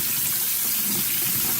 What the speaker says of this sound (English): You know, you got water running right now,